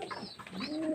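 Pigeons in a rooftop loft give a brief, close coo, soft and rounded, with no other sounds around it.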